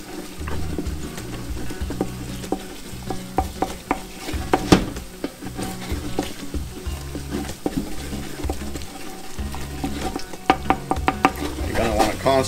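Roux for duck gumbo stirred and scraped steadily across the bottom of a pot over medium heat, with a continuous scraping rhythm and light clinks under a soft sizzle, close and moderately loud.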